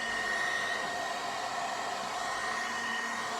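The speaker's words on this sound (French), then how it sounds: "vous prenez la brosse, vous commencez à sécher" 2-in-1 hot air dryer brush blowing while drying hair, a steady close whooshing roar with a faint high whine, constant and alone for the whole stretch.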